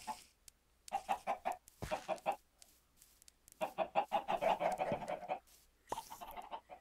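A loose chicken clucks in bursts of rapid, rhythmic cackling near a fenced outdoor yard, with short pauses between runs of clucks and no talking.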